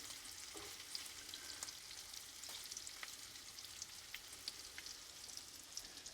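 Shrimp cook in a pan with a faint, continuous frying crackle and scattered small pops, heard at a distance throughout.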